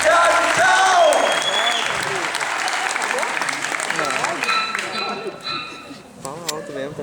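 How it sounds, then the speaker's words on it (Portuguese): A theatre audience at SESC applauds the cast after a Vinicius de Moraes poetry performance, loud dense clapping that slowly tapers off while voices call out and chatter over it. "Mais palmas pra gente embora, por favor."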